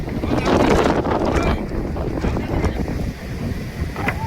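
Strong gusty wind at a seashore where Koli fishermen are working, roaring loudly and buffeting the microphone in uneven surges throughout.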